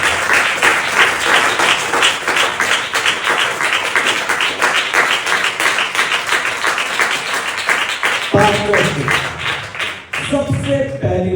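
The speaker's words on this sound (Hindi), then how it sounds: "अब जोरदार तालियों से स्वागत करें।" Loud, close applause from a church congregation at a crossover night sermon, rapid clapping that partly falls into a rhythmic beat, joined near the end by a voice speaking over it.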